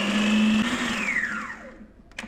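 An electric chopper whirs loudly as it minces beef into keema for gola kebabs, a steady high motor drone that slowly drops in pitch as it spins down and stops, followed by a brief clatter near the end.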